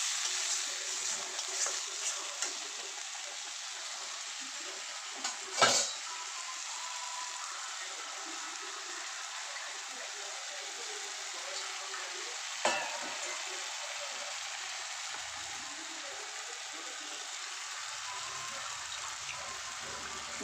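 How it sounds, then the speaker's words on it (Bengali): Chickpea curry masala stir-fried in a pan, a steady soft sizzle with a couple of sharp clinks of a utensil against the pan, close and continuous, no talking. "দিয়ে এবার এটাকে ভালো করে কষাবো।"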